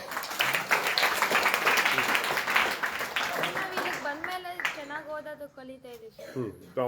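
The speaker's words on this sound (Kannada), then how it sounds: "ಜೋರ ಚಪ್ಪಾಳೆ ತಟ್ರಪ್ಪ." A burst of applause from a group at a foundation course event, many hands clapping loudly for several seconds before fading as voices take over.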